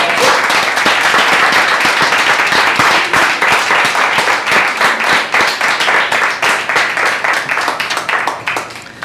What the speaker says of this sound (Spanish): denle palmas al Rey